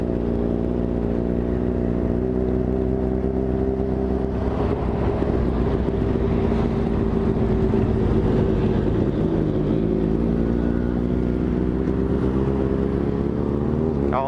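Group of about 25 motorcycles, including a Dafra Next 250, riding together after leaving a fuel station, with a steady close engine drone and rising and falling revs throughout.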